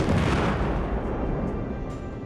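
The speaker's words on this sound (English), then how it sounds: "The British fire a single cannonball." A single cannonball is fired from a cannon, a deep muffled boom that rolls out and fades over a couple of seconds.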